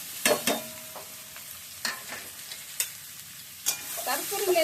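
A spoon stirs salt, turmeric and chili powder through ingredients in a frying pan, making a handful of distinct scraping strokes over a faint, quiet sizzle.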